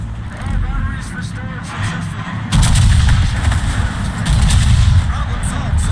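A warship's main battery salvo booms out in a naval combat game, a heavy roar that swells midway and sustains with rumbling after-blast, while someone talks over the firing.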